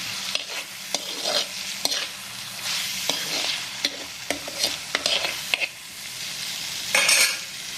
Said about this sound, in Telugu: అల్లం వెల్లుల్లి పేస్ట్ పచ్చివాసన పోయే వరకు వేయించుకున్నాము